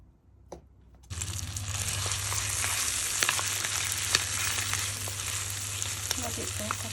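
Oyster scallops and chingensai hit a pan of hot butter, and a loud, steady sizzle starts abruptly after a quiet moment and a single clack, then continues with occasional scraping stirs.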